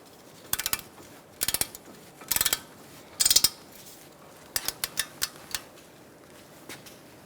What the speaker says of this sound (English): Tighten these bolts and torque them to